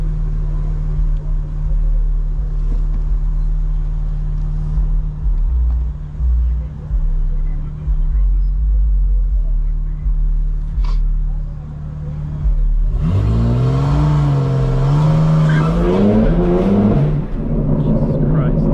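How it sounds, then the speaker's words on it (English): A 2024 BMW G82 M4 Competition xDrive idles with a low, steady drone, then launches in all-wheel drive, its engine note climbing sharply and loudly through the revs while a person talks over it. "let's launch it in freaking all-wheel drive,"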